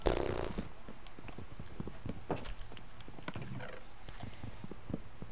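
Quiet Minecraft horse sounds: hooves clip-clopping at an uneven pace, with a soft snort or whinny near the start, all fairly faint.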